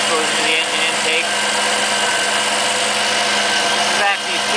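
A car engine idles steadily under the hood, fed through an HHO generator bubbler line into the intake, giving a continuous broadband hum and hiss heard close up with no talking.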